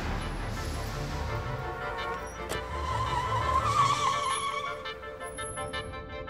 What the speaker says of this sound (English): all the driver needs to do is step on the gas, and the cab speed changes